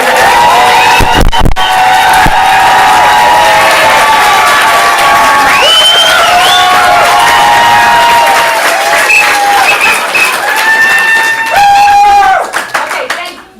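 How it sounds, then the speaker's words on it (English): A comedy improv show crowd bursts into loud applause and cheering for the teams, with whoops and shouts over dense clapping that holds strong, then fades near the end as a voice speaks briefly. "You guys just stand up, giving up a round of applause right"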